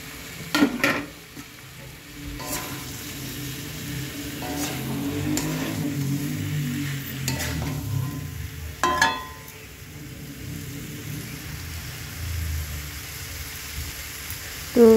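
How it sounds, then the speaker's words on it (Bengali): Fried soybean chunks, cauliflower and potato are stirred with spices in a pan, with a soft, low sizzle and occasional sharp clinks and scrapes of a utensil against the pan, close by and fairly quiet. "সবজিটা দিয়ে আমি ভালো করে আবার কষিয়ে নেব মশলার সঙ্গে।"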